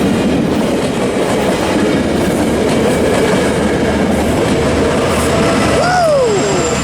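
A Metro commuter train rolls past at Commerce near Fullerton, loud and close with steady rumbling and rhythmic clickety-clack of wheels, ending with a brief squeal of wheels on the rails.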